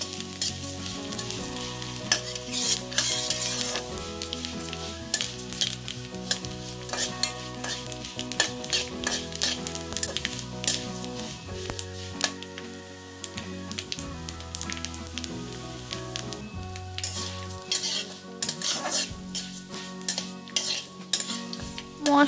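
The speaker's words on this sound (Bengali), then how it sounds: "এই মশলাগুলোকে আবার হালকা করে নেড়ে নেড়ে ভালো করে ভেজে নিতে হবে।" Fennel and whole cumin seeds sizzle and crackle in a pan for a pickle, stirred with a utensil that scrapes and taps now and then. The frying carries on steadily throughout under background music, with no talking.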